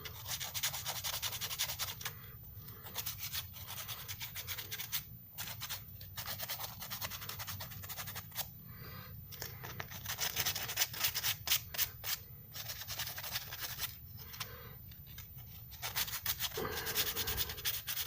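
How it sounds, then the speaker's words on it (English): Rhythmic hand sanding of basswood, a rough scratchy rubbing in repeated strokes with brief pauses, close up and fairly quiet. "I'll just keep sanding"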